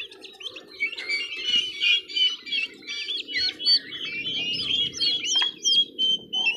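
Turkey chicks chirp close by in a dense, continuous chorus of high peeping calls over a soft low background murmur.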